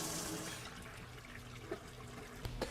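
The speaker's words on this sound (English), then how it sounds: "take a hose, rinse out the sidewalls of the scrubber itself, and watch it flow out of the recovery hose until you have clear water" Rinse water gushes and trickles out of the recovery hose of an automatic floor scrubber, a steady close pour with a few small splashes and knocks.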